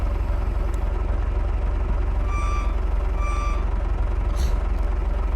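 A farm vehicle's reversing alarm in the Farming Simulator 22 video game, heard as two evenly spaced beeps over a loud, constant engine rumble.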